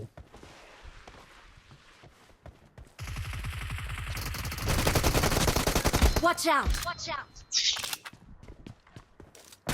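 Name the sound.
gunfire in a video game deathmatch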